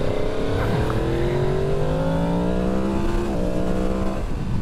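A 2023 Yamaha MT-10 motorcycle engine revs loud and close, climbing and falling through several throttle blips with a steady rumbling idle beneath.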